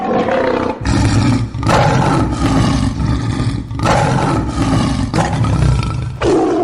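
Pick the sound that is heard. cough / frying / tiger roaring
tiger roaring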